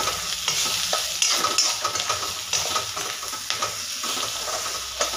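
Ground coriander and cumin powder sizzle and fry in a pan for Marathi-style ivy gourd (tendli) sabzi while a spoon stirs and scrapes steadily; the frying hiss stays continuous and close, broken by clinks of metal, with no voices.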